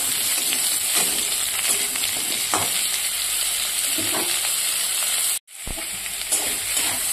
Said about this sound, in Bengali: এবার আমি এখানে বেটে রাখা লঙ্কা বাটাগুলো দিয়ে কষিয়ে নেব।